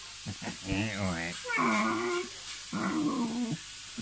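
A small dog whimpers and yips in a rising, wavering whine, several short cries spread over a few seconds, close and fairly clear, with people talking around it.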